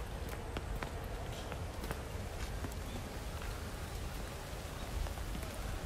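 Steady rain falls in Inokashira Park, a dense, even patter of drops on surfaces with scattered sharper taps, faint and continuous with no voices.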